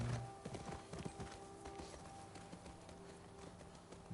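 Faint hooves of a horse in the video game The Last of Us Part II clip-clop in an uneven trotting rhythm, quiet and steady against a low background hum.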